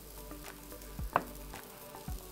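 A quiet, steady sizzle of sliced potatoes frying in butter with fresh herbs in a pan, with a few soft scrapes and taps as the pieces are turned.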